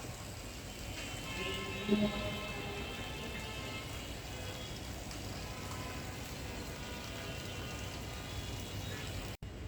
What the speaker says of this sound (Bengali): পুরোটা কিন্তু বৃষ্টি হচ্ছে একদম ঝিরিঝিরি বৃষ্টি